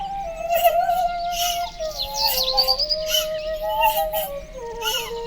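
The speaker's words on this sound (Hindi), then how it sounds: "टुनटुनी चिड़िया की रोने की आवाज सुनकर" A small tuntuni bird calls with thin, plaintive chirps and wavering tweets, repeated steadily over a soft background hum.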